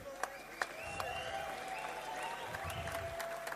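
Crowd applause for fighter Red Salah at an MMA event, a sustained burst of clapping from many spectators with a few sharp closer claps and a faint tone running underneath, crowd murmur mixed in.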